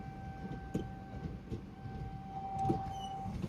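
Train departing Kankavli station on the Konkan Railway, a daily Sawantwadi–Dadar express, heard from inside as a low, faint rumble with a steady electric whine and occasional clunks.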